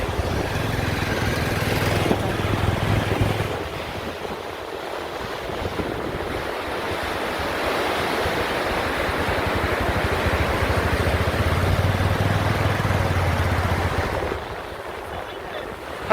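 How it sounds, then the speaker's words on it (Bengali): Big ocean waves heard from a boat at sea, a continuous loud wash of surf and rushing water mixed with heavy wind buffeting, steady throughout with a slight drop near the end. "কত বড় ঢেউ আসছে, কত বড় ঢেউ।"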